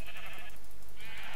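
Sheep bleating in the Minecraft video game, two drawn-out nasal bleats separated by a short pause, clear and fairly close with no talking over them.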